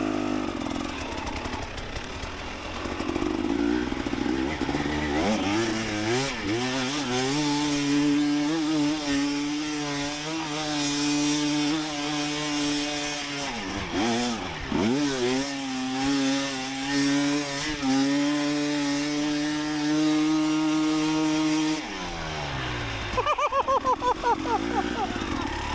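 A motorcycle engine revs hard while the bike is ridden, its droning tone climbing and dropping as the rider shifts and throttles. It stays loud and close throughout, with a brief dip midway and a short change at the end.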